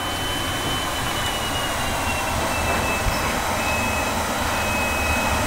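Learjet engines in Flight Simulator X roar at takeoff as a dense, steady broadband rush with a thin high whine running through it, constant and close with no talk.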